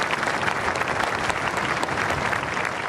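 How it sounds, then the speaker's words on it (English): A marathon crowd applauds in tribute to last year's winner, a dense, steady roar of clapping that holds at full strength throughout. "a tribute of applause for last year's winner, 24-year-old Kelvin Kiptum"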